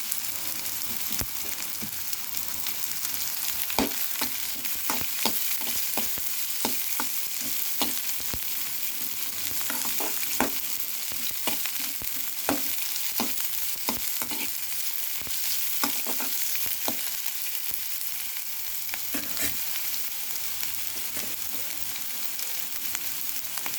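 Beans, carrot and other vegetables frying lightly in a little oil in a pan for oats cutlets, a steady close sizzle with scattered crackles and stirring clicks throughout.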